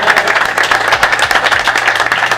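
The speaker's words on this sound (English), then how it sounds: "you need to be applauded for that" Loud close-up applause for a football team, many hands clapping in a fast, dense rhythm that stays strong and steady throughout.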